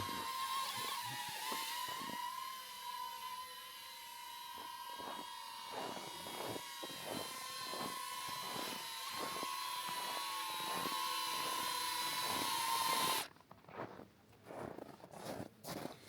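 A small DJI drone hovers close by with a steady high-pitched whine and rotor buzz, joined by footsteps crunching in winter snow. The whine cuts out near the end, leaving only scattered crunching steps.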